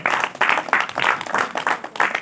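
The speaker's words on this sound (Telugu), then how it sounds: "చప్పట్లు కొడుతూ స్వాగతిస్తూ స్టేజ్ మీదకి ఆహ్వానిద్దాం" A church Christmas celebration audience claps to welcome a pastor onto the stage, a close crowd giving rhythmic, pulsing applause in regular bursts roughly every quarter second.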